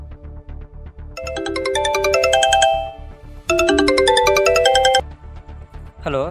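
A phone rings with an incoming call during a short film fight scene, two bursts of a bright melodic ringtone over a steady pulsing beat, loud and close.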